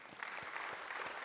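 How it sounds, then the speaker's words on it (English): A nearly full house at a professional development symposium applauds, producing a brief, faint and even patter of many hands clapping in a large room. "I think you should give yourselves a round of applause"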